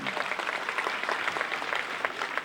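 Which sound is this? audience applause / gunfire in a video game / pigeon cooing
audience applause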